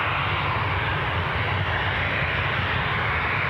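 A Ryanair Boeing 737 jet bound for Faro roars steadily at Newcastle International Airport, a loud, continuous broadband engine rumble with no break across the whole stretch.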